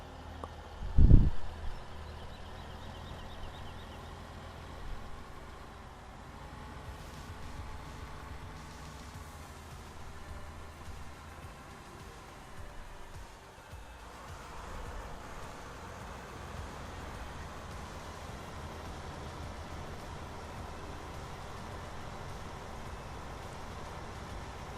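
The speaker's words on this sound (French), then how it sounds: "Je kiffe le bruit quand on roule sur la terre." A low tractor engine rumbles steadily for a long stretch as it rolls along dirt in the video game Farming Simulator 17, with faint crunching and shifting mechanical noise and no talking.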